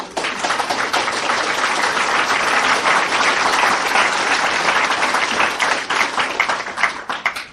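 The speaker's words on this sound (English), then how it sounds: "And you applaud, and so you should" Loud, sustained applause from a large audience in a lecture hall after a speech, dense clapping filling the whole stretch without pause before tapering slightly at the very end.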